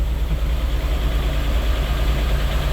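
A 1998 Mitsubishi 3000GT, revived after sitting 12 years, idles steadily with a low, even engine rumble and a faint rhythmic tick, heard alone and close.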